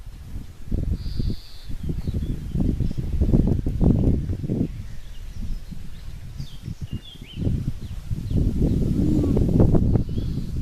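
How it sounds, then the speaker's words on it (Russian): Gusts of wind stirring leaves in a birch grove by a river, rising and falling in close, breathy swells with faint bird calls in the background. "Ветер поднялся, как хорошо."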